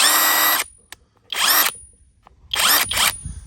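A STROMO AWA25 cordless impact wrench whirs in three short bursts, each spinning up loud and close and cutting off, with near silence in the gaps.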